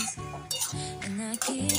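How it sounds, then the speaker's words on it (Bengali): A spoon scrapes and clinks in a pan while a watermelon rind and mung dal curry with chopped coriander leaves is stirred, close-up repeated strokes over faint cooking noise. "ধনে পাতাটা দিয়ে দিচ্ছি, নেড়ে চেড়ে দিচ্ছি।"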